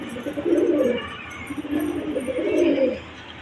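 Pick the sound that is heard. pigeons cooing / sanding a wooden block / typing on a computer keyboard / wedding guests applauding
pigeons cooing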